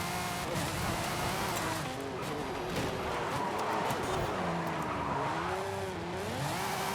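Powerful race cars in the Forza Horizon video game rev and spin their tires, a continuous loud engine roar with rising and falling pitch and tire squeal throughout.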